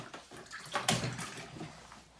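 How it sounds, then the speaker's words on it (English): Water splashes and sloshes in a basin of hot water as raw sheep fleece is rinsed, with a burst of pouring around the middle, then softer swirling. "I will do just a little rinse in this hot water"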